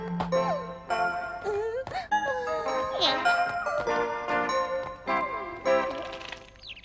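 A cartoon bird chirps in bright, whistling trills and squeaks over a busy animated soundtrack of tinkling music, loud and continuous.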